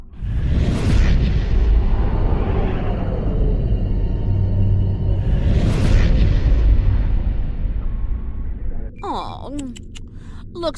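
Starship weapons fire in Star Trek Online as a ship engages an enemy cruiser, with two heavy booming blasts about five seconds apart over a continuous rumbling battle din, ending in sharp electronic chirps.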